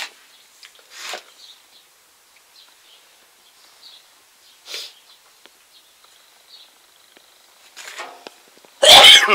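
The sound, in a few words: sneeze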